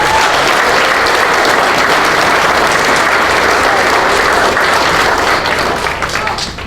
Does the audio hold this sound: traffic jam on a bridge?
no